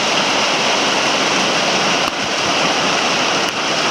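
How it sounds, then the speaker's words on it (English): Heavy rain pours in a Northern California storm, a loud, unbroken roaring hiss of water falling and splashing outdoors, steady throughout with a couple of faint knocks. "stupid rain."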